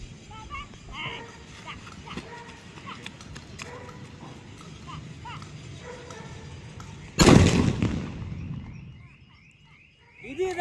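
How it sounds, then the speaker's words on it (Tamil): A big atom bomb firecracker bursts during Diwali with a single loud, sharp blast that rings out and decays over a few seconds. People talk before and around the explosion. "எவ்வளோ பெரிய வெடி"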